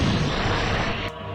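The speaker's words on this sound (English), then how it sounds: "You can even have all of these chests exploding one after the other" Chests bursting one after another in the MediEvil video game, a dense, loud rumbling blast that fills the whole moment and cuts off sharply near the end.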